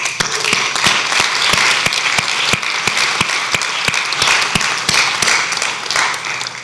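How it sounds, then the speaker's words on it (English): An audience applauds, sparse claps merging into a steady patter of clapping that holds at an even level throughout. "I think they deserve a round of applause"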